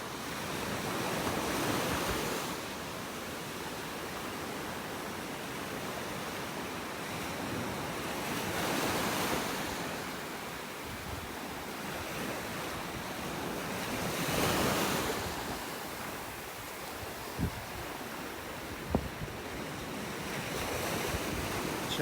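Waves surging on a beach in North Naples, Florida, on a morning walk: continuous surf washing in and out in slow swells, heard close and moderately loud under steady wind noise, with a couple of faint knocks and no talking.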